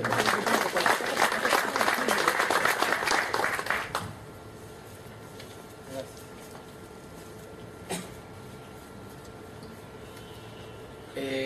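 A crowd at an evening forum on the Peruvian economy claps heartily to welcome a speaker, a thick patter of hands for about four seconds before it cuts off to near silence with a few faint knocks.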